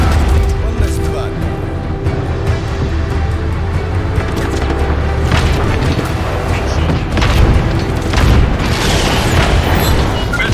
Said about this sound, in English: Missile strike coming down.